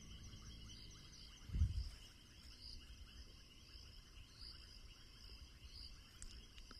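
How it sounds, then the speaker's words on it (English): At night in the African bush, a faint, distant chorus of banded rubber frogs, leaf-folding frogs and little grass frogs keeps up a steady pulsing trill and click, with one soft low thump early on. "You hear those banded rubber frogs. You hear the leaf folding frogs. And little grass frogs as well."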